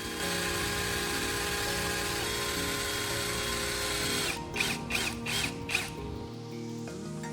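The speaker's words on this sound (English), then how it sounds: "I started by attaching a screw into the end of my drill, then gently screwed it into the handle of the brush" A power drill whirs steadily with a screw chucked in, driving it into the end of a paintbrush handle; the hum runs loud and continuous, then breaks into a few short bursts before cutting out near the end.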